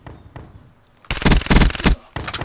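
Gunfire in the video game Call of Duty: Black Ops 3 on the Gauntlet DLC map: a few faint shots first, then a loud, dense burst of rapid automatic fire lasting about a second, and another burst at the end.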